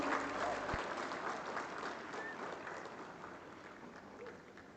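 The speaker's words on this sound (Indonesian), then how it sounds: "Hadirin, kita beri tepuk tangan yang meriah." A crowd at an outdoor ceremonial rally for Jakarta's athletic contingent gives a dense, sustained round of applause that starts loud and slowly tapers off across several seconds.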